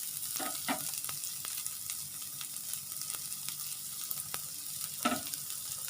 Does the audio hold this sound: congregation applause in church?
no